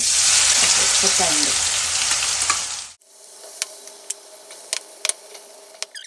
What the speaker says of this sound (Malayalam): ഇതിലേക്ക് നമ്മുടെ സോയാബീൻ ഇടാൻ പോവാണേ എണ്ണ ചൂടായിട്ടുണ്ടാവണം